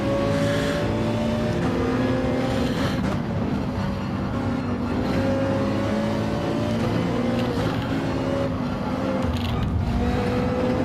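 A Mercedes-AMG race car engine drones in a racing video game, a loud sustained tone with shifting pitch and brief dips, continuous throughout with no talk.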